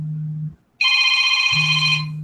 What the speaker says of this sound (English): Uh-oh. Somebody's phone.